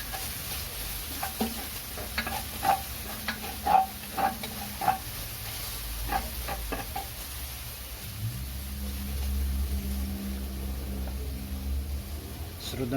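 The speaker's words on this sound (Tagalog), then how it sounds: "gisa lang natin yan." Garlic and onion sauté in a pan for pork caldereta, a soft sizzle with scattered stirring clicks and scrapes, then a steadier frying hiss, heard under light talk.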